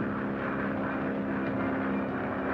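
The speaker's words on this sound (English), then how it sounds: "I'm scared to ride in airplanes" An airplane engine droning in flight, a steady, dense hum with a low tonal buzz that holds evenly throughout, heard from inside the cabin without any talking.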